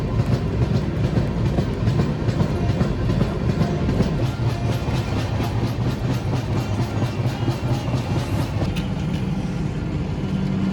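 A passenger train on a long journey through Uttar Pradesh, stopped around Lucknow station, gives a steady, loud rumble with a faint clickety-clack of carriages running throughout, and no voices.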